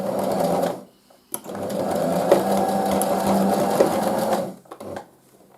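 A sewing machine stitching fabric face masks, a close steady mechanical whir running in two bursts, the second long and even, with a brief pause and clicks between.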